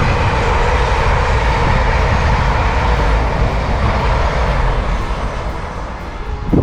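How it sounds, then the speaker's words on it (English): A loud, broad rumbling roar of a train passing close by on the Selby to Leeds line near Hambleton, England, steady throughout with rattling low noise, slightly fading toward the end. "here comes a train actually on the Selby to Leeds line"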